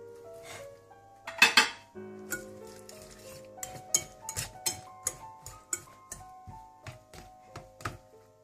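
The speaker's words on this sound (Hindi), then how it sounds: "और किशमिश भी डालकर अच्छी तरह से मिला लें। फिर इसमें गाजरें डाल दें।" Coleslaw ingredients, raisins and carrots, are mixed in a bowl with a utensil, producing a series of clinks and scrapes in an irregular rhythm after a louder clatter, all close and without talk.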